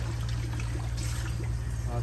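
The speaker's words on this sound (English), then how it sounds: "you take the spent water and you pour it out" Spent descaling water pours steadily out of an OXO 9-cup coffee brewer carafe, a continuous splashing stream close by, with a low hum underneath.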